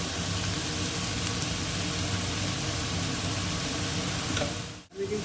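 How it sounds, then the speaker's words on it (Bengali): Mustard seeds frying in a pan with rice and turmeric added, a steady close hiss and sizzle running continuously, broken by a brief dip near the end. "সর্ষেটা ভাজা ভাজা হয়ে গেছে"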